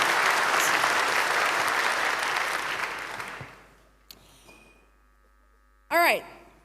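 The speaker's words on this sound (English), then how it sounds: "give them the huge round of applause" An audience claps warmly for two speakers introduced before a talk on the science of insecurity, the applause loud and sustained for about three seconds before fading out, followed by a couple of brief thumps and a short voice.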